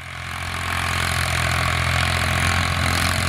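A Ford 4000 tractor with a 3.3-litre three-cylinder 55 hp engine runs steadily and loudly at close range, a continuous low mechanical drone that swells slightly at the start and holds without a break.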